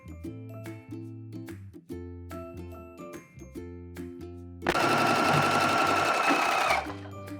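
A sewing machine stitches down the folded-in hem of a puff-sleeve babydoll dress in one sustained, close whirring run of about two seconds, with soft music playing before and after.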